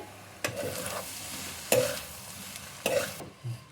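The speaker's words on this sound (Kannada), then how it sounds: "ಸೊ ಈಗ ಹಾಕ್ಬಿಟ್ಟು ಎಲ್ಲನೂ ಒಂದ್ಸಲ ಚೆನ್ನಾಗಿ ಮಿಕ್ಸ್ ಮಾಡಿ" Egg rice with soy sauce is stirred in a pan, three distinct scraping strokes of a spatula over a soft sizzle, close and alone without talk.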